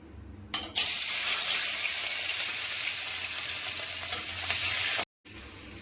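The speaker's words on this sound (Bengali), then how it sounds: "এবার মাছগুলো ভেজে নিচ্ছি" Pieces of katla fish, rubbed with salt and turmeric, hit hot mustard oil with a sharp burst, then fry in a loud, continuous close sizzle that drops out abruptly near the end before returning.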